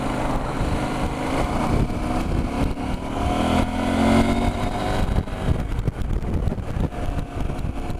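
A KTM 790 Adventure motorcycle is ridden at around 30 mph, its engine drone mixed with steady wind rush and a rise in revs partway through.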